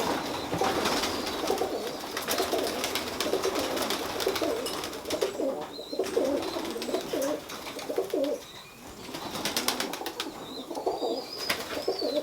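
Tippler pigeons coo steadily in a loft, their low murmuring calls overlapping throughout with faint higher chirps and a busy background of flock noise, close and continuous.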